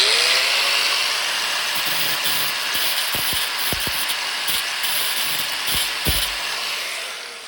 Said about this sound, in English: So instead of spending a couple seconds more, we just grind it off.